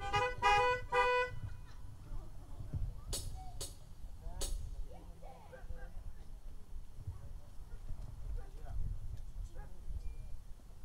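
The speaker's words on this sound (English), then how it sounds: "Could somebody honk your horn and say amen?" Several car horns honk in short bursts at an outdoor gospel hymn sing church service, one repeated toot followed by scattered longer blasts, over a faint murmur of outdoor crowd noise.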